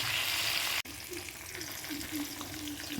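Steady sizzle of food frying in hot oil in a pan during Bengali home cooking for the puja festival, with a brief sharp click early on and a quieter crackle continuing alone afterward.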